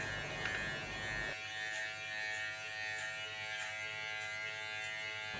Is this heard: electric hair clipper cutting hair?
yes